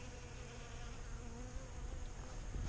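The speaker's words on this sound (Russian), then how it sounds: "Вот, пчелки охотненько уже с утра за водичкой прилетают." Honey bees, old worn worker bees, fly in during the morning to drink at water and salt-water dishes set out at an apiary, making a faint, steady, continuous buzzing with no voices.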